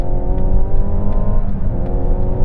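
A Mazda CX-60 SUV accelerates hard to overtake on a dual carriageway, a steady engine roar and road rumble heard from inside the cabin, continuous and fairly loud with no talking.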